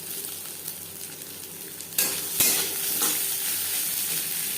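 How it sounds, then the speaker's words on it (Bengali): Cumin, dried chili, bay leaf and grated coconut fry in a pan for vegetarian chana dal, giving a steady close sizzle that grows louder partway through, with stirring and a few scrapes and no talk. "জিরে, শুকনো লঙ্কা, তেজপাতা ভেজে নেওয়ার পর নারকেল কুচি"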